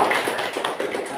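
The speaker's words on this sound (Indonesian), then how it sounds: "Tepuk tangannya." A classroom of students claps for a classmate, a brief burst of scattered, fairly soft hand claps in a room.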